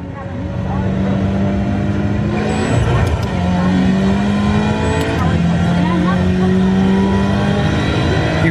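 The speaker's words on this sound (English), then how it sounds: "When in doubt, throttle out." A race car engine holds a loud, steady full-throttle roar with whining gear tones, close and constant throughout, while voices talk over it.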